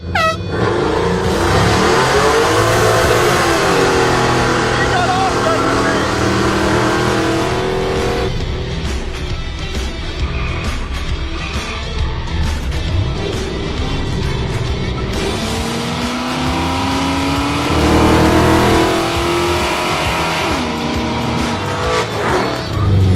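Loud, sustained engine roar of a naturally aspirated 5.7 LS6 V8 and a supercharged 4.6 V8 revving and accelerating hard in a drag race, pitch rising and falling through gear changes, with a horn-like blare at times.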